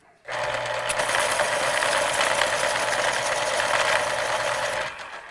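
A colored pencil is being sharpened: a steady, loud motorized whir starts abruptly, holds evenly for about four and a half seconds, then stops. The sound is close and alone, with no talking.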